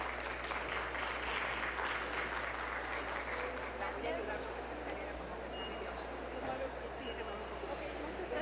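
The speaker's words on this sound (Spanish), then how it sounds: "Por favor, démosle un fuerte aplauso." Audience applause at a Spanish-language medical conference on precision medicine and bioethics, a steady wash of clapping over a constant low hum, with faint crowd murmur underneath.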